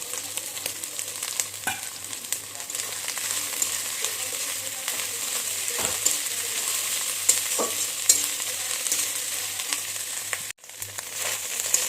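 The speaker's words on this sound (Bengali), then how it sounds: "ছোটকি চিংড়িটাকে ভালো করে একটু ভেজে নিতে হবে" Dried shrimp frying in a pan with ginger paste, a continuous soft sizzle broken by occasional spatula scrapes and clicks, fairly quiet and heard without speech.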